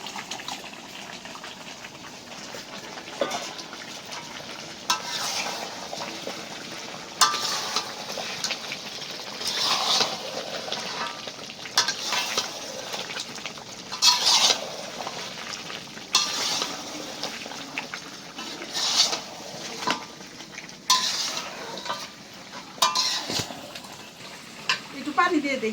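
Fried chicken in a thick sauce sizzling and splattering in a pan, with a steady frying hiss broken by stirring and bubbling pops throughout, and a voice talking now and then over it.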